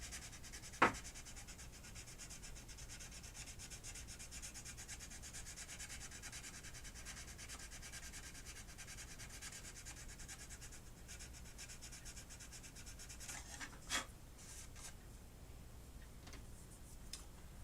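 Dried paint on a plastic model is buffed with a continuous, even rubbing hiss that carries on throughout, broken by a few faint ticks and one brief sharp click.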